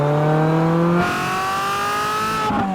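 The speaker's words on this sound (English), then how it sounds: "F355s have perhaps the best exhaust note this side of a Carrera GT or a 2008 Formula One car" A Ferrari F355 engine revs hard up through the range, a loud high-pitched wail that shifts gear about a second in and again near the end, close and alone without talk.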